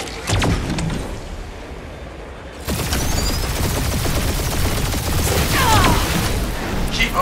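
Sustained gunfire barrage from a Guardians of the Galaxy game battle: dense, continuous volleys of shots and blasts, loud and close, with a brief quieter lull before an intensified roar of firing and impacts.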